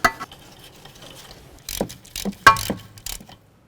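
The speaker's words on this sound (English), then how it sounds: "Now let's torque these to 214 foot-pounds." A torque wrench tightens the rear strut bolts on a 2012-2017 Toyota Camry, with quick bursts of ratcheting clicks separated by short pauses, close and fairly loud.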